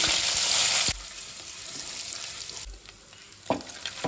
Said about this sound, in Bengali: ফোড়নটা হয়ে গেছে, এবার আমি নারকেলের টুকরোগুলো দিয়ে দিচ্ছি।